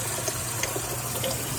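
Water runs steadily and close by while two pieces of turkey meat are washed in water with a little turmeric powder, with no talk.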